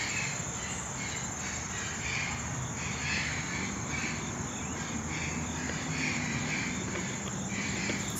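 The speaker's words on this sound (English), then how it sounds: "I'm not sure if there's like a bird fight happening." Crows caw repeatedly at the Queens Zoo in New York City, as if squabbling, in fairly distant calls over a steady, loud drone of insects.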